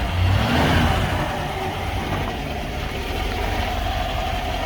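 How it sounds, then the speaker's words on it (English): A smooth V8 engine of a Rover P5B runs steadily nearby with a deep, even rumble, holding a constant level throughout with no voices. "smooth V8 sound"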